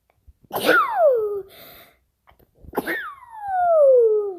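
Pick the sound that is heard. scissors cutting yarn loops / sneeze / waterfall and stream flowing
sneeze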